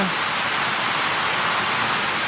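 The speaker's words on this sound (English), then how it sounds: "this is a shower, this will go on, 10 minutes or so" Steady, loud rain pours down in a dense, unbroken hiss with no pauses or voices.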